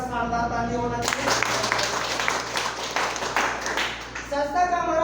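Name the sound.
applause, people clapping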